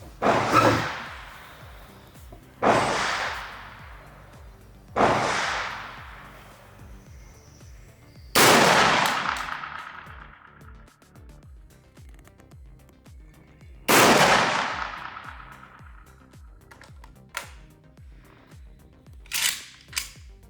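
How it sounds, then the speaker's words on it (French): Shotgun blasts from an Izhmash Saiga 12, a Kalashnikov-pattern 12-gauge, fired at a target: several loud, sharp reports spaced a few seconds apart with reverberant tails, then two quieter distant pops near the end. "Et fais 2 tirs de confirmation."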